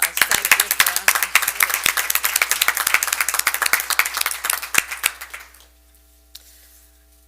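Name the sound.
audience applause at school board meeting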